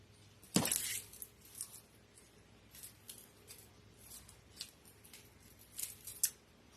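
Scissors snip through greenery for a dog paw wreath, one crisp loud cut followed by several softer, scattered snips and rustles, close and quiet with no talking.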